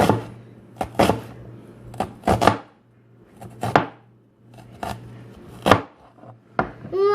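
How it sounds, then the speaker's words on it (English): A knife slices a vegetable laid flat side down into thin strips on a cutting board, with about ten sharp, close chops in an uneven rhythm separated by quiet pauses. "put it the flat side down and just cut strips"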